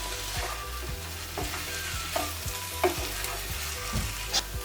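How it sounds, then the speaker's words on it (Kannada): Chicken lollipops being tossed in a hot pan, frying with a loud continuous sizzle under repeated rhythmic clatters and scrapes as the pan is shaken, with no voices. "ಇವಾಗ ಈ ಥರ ಟಾಸ್ ಮಾಡ್ಕೊಂಡ್ರೆ ವಾಸಿ"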